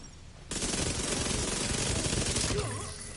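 A sudden burst of rapid automatic gunfire in The Division 2 bursts in after a quiet half-second and rattles continuously and loudly for about two seconds before tapering off.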